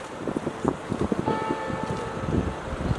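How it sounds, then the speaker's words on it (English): Church bells tolling in the old town of Landshut, Bavaria, a low ringing mixed with wind noise and street ambience, with a faint sustained tone partway through. "Bells tolling."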